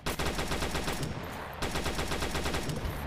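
Gunfire in the WW2 first-person shooter mobile game World War Heroes: rapid automatic bursts rattle continuously and loudly, with one short pause partway through.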